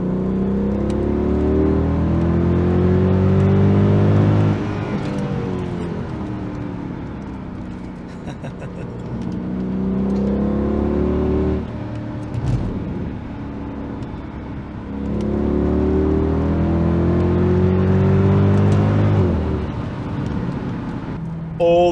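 Mercedes W211 E63 AMG with its M156 V8 and secondary cat delete exhaust revs repeatedly, with loud, deep rising and falling engine swells in three or four long pulls, heard up close.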